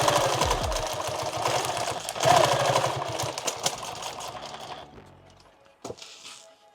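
A sewing machine stitches through a padded OD green war belt, a steady close mechanical whir and rapid thumping that runs for several seconds, then stops, leaving a faint click and quiet handling.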